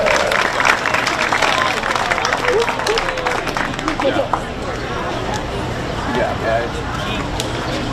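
A crowd claps for a class at a junior livestock show in an arena, loud at first and then thinning out. Scattered claps, crowd murmur and footstep-like clatter continue beneath.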